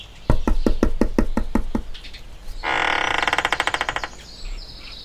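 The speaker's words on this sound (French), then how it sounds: "quelqu'un frappa à la porte de Monsieur Glouton." About eight sharp, evenly spaced knocks on a door ring out loud and near, followed after a pause by a rapid buzzing rattle and a faint chirp, with no talk.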